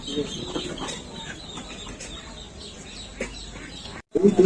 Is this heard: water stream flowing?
no